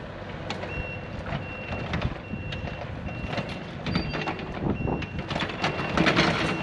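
A heavy machine backs off a trailer at a job site, its reversing alarm beeping in a steady repeating rhythm over the rumble of its engine, moderately close, with no talk.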